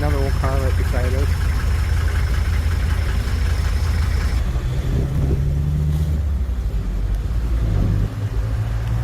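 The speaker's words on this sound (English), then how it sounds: "Another old car right beside us." An old car's engine runs right beside cyclists on a road in Cuba, a loud, steady low rumble that holds throughout, with a voice briefly heard near the start.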